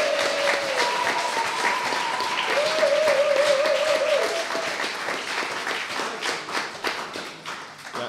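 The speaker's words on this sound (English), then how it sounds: "Big round of applause to Jenny." A church retreat audience gives a sustained round of applause that stays strong for several seconds and then thins out, with a few voices and whoops rising over the clapping.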